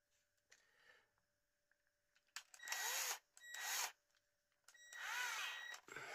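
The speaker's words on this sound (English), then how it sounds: "we're going to stick it in the drill again now" A power drill whirs in three short bursts, each starting and stopping abruptly, with quiet gaps between them.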